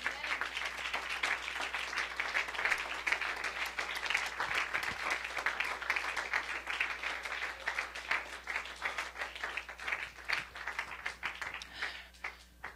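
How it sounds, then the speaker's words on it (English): Sustained congregation applause fills a hot church hall during an evening service, a dense, steady wash of many hands clapping with scattered sharper claps, continuing at even strength and fading slightly near the end. "Give him another round of applause."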